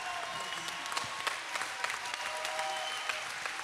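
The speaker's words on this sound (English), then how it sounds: "give them a good clap offering here" Steady, moderate applause from a church congregation, continuous clapping throughout with a faint background tone and no speech.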